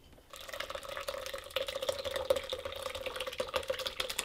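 Berry juice strained through cheesecloth drips and trickles steadily into a container, a soft close patter of droplets over a faint liquid gurgle, with no talking.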